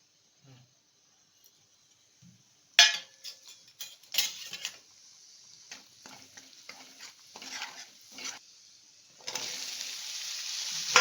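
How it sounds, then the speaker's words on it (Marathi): Spices are tempered in hot oil for a silk cotton pod curry: after a quiet start, sharp crackles and a utensil stirring the pan lead into a rising steady sizzle. "तेल तापलंय आता आपण ना देव भाजीला फोडणी"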